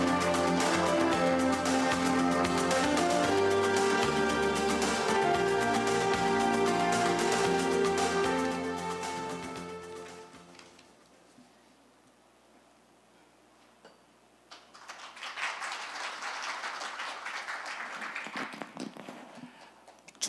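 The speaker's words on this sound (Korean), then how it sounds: "큰 박수 부탁드립니다" Audience clapping at a Korean cyber university's academic forum ceremony, welcoming the university president to the stage. It rises after about ten seconds of music and a quiet pause, then holds as a moderately loud, even wash of applause.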